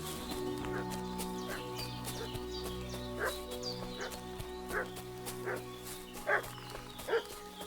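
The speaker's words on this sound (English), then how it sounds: "What's that dog making such a fuss about?" Dog barks in the medieval Bohemian world of Kingdom Come Deliverance 2, a few sharp distant yaps spread over a steady ambient bed of game music and outdoor hum, growing more frequent toward the end.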